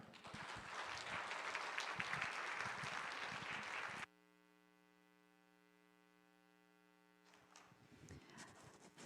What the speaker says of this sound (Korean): 우리 김명선 간사님 오실 때 나오실 때 큰 박수 부탁드리겠습니다.